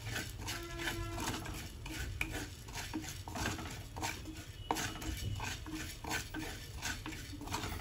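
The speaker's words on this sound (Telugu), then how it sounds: "ధనియాలు వేపుతున్నామండి." Coriander seeds roast in a clay pot while a utensil stirs and scrapes them, producing continuous rhythmic scratching and light rattling under a faint crackle, close and steady with no talking.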